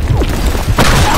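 A grenade blast in a Counter-Strike style shooter: a loud close boom with a sharp crack and burst of noise partway through, over a dense rumbling game background.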